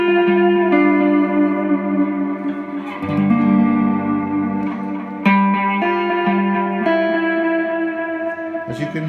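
Binson Echorec tape echo unit after maintenance, processing sustained tonal notes into clean repeating echoes with a reverberant, layered tail; the sound stays steady and moderately loud throughout, with no voices.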